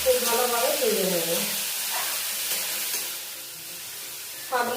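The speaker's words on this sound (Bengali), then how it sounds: "এই বেগুনগুলো খুব ভালোভাবে ভেজে নেব" Washed eggplant pieces frying in hot oil with garlic in a pan, a steady close sizzle with brief clattering of stirring.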